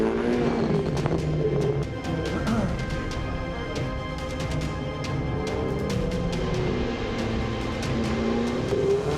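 Ferrari race cars launch at the start of a Trofeo Pirelli race at Le Castellet, a dense, sustained roar of many engines with sharp clicks and rising revs, moderately distant.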